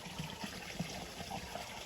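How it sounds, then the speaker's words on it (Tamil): Irrigation water trickles and flows steadily through a channel toward banana plants on a farm, a faint continuous running-water sound with small gurgles and no talking. "வாழைக்கு தான் இப்போ போகுது தண்ணி"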